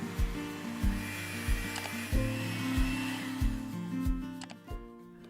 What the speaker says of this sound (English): Then we will add a 1/3 cup of sugar and whisk to combine.